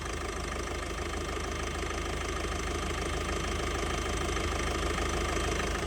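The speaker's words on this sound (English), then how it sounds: "That's a nice sounding engine." A Ford Connect van engine idles with the bonnet open, a close, steady mechanical hum with a fast, even ticking rhythm throughout and no talking.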